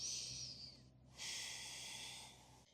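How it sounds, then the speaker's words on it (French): A long breath drawn during a yoga downward dog pose, two sustained airy breath sounds in close succession with a short pause between, close and fairly quiet, with no talking. "On prend une longue respiration ici, dans son chien tête en bas."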